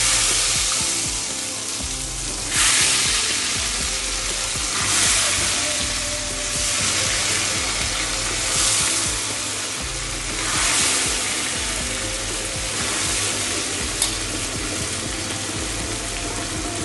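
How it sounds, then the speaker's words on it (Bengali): Eggplant pieces fry in hot oil, a loud continuous sizzle that swells and fades in waves as the pieces are turned, with no voices. "এই তেলেই আমি বেগুনগুলো ভেজে নিচ্ছি।"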